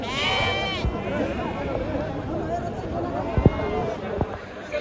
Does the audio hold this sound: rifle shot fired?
no